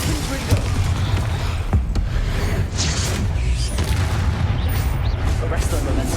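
A Confringo fire spell blasts in a wizard video game. Booming explosive hits and crackling bursts land within a dense, loud battle din, with spoken spell names in the mix.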